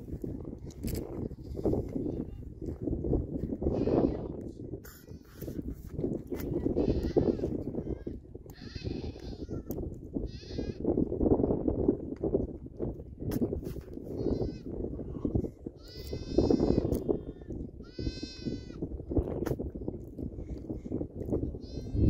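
Goats on a farm, billy goats among them, bleat again and again at close and middle distance over a steady rustling and shuffling background. Short quavering calls come in bursts throughout, with no clear talk over them.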